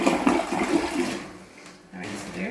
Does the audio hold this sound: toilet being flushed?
yes